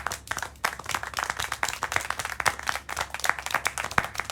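Scattered clapping from a small group in Syberia: The World Before, set in a 1937 refuge, a steady patter of individual claps over a low background hum.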